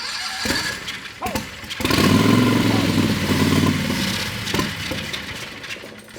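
A turbocharged 670cc V-twin engine running on methanol cranks and sputters close by in a rough, uneven mechanical rumble lasting a few seconds, with clattering and handling noises around it.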